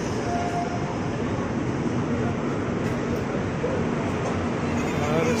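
A Howrah passenger train rolls along the rails with a continuous loud rumble and steady rattle, heard from inside and never fading, with a faint squeal partway through.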